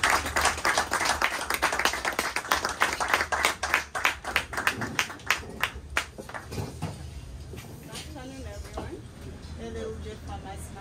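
An audience at a demo-day pitch session for a farmers market startup claps loudly in a run of sharp, close claps that thin out and fade into a softer patter, with a voice speaking near the end.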